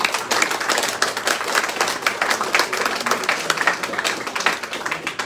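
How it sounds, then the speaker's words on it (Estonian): An audience claps at a book launch for a collection of song lyrics, the applause brisk and full with individual claps standing out in a lively, even rhythm. "Veel üks aplaus."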